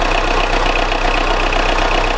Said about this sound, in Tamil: இன்ஜினை பாருங்கள், இன்ஜின் தெளிவாக இருக்கும்.